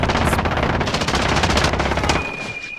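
Rapid gunfire from a shotgun in the Modern Warfare video game, a loud, dense string of blasts in close succession that tails off toward the end.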